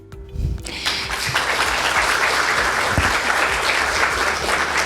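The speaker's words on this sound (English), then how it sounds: "A big applause for the Black Sea Accelerator." Sustained, dense clapping from a large audience at the Black Sea CMA Stakeholder Conference awards ceremony in 2024, starting abruptly and holding steady and loud throughout with no talking.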